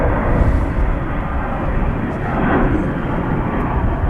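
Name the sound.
Airbus A321 airliner taking off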